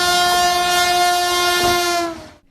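A Vande Bharat Express sleeper train on a trial run sounds a loud, sustained, steady horn for about two seconds before it cuts off abruptly, with faint rail rumble beneath.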